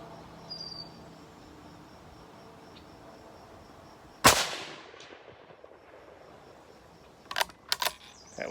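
A single sharp report from a 1917 Enfield Sporter rifle cracks out midway, with a fading echoing tail outdoors on a windy day. A few small clicks follow a few seconds later against quiet ambience.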